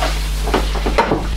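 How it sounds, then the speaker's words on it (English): Roast potatoes browning in a hot roasting tray for Christmas dinner, a steady close sizzle broken by a few soft scraping knocks as they are stirred, with no talking. "So in the tray, I'm just going to start the browning process."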